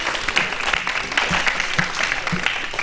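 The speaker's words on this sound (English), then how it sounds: "they deserve another round of applause for that good answer" A studio audience gives a quiz team a steady round of clapping, many hands applauding at moderate volume with no voices over it.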